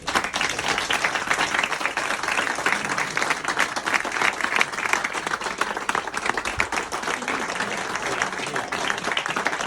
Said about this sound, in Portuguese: para a minha autora uma potente salva de palmas aqui do pessoal